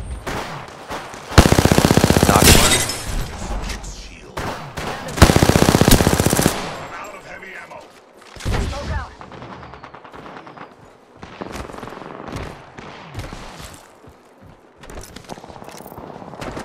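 Automatic gunfire in Apex Legends during a Shadow Royale match, with long loud sustained bursts followed by scattered shorter shots and game effects.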